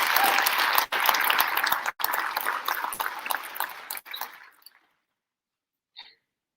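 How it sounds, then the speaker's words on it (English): A graduation audience applauds the session 60 class officers at a sheriff's office academy ceremony, loud dense clapping that cuts briefly twice, then thins and fades out around four and a half seconds, followed by silence and one faint late clap. "Please give a round of applause"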